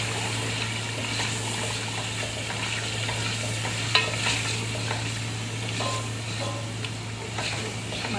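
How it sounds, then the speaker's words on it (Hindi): Arvi gosht masala with yogurt stirred in a pot, a continuous soft sizzle and scraping with a steady low hum beneath and one brief clink midway, close and even in level with no voices. "मिक्स करेंगे इसको अच्छे तरीके से"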